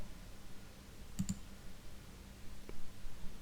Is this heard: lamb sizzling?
no